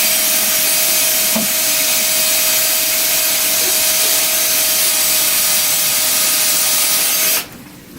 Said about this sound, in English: I'm drilling into the under support